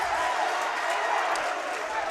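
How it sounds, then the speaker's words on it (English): A high school basketball crowd roars and applauds in a gym after a dunk, a dense, sustained wash of cheering and clapping with a commentator's voice mixed in. "That gets the crowd going."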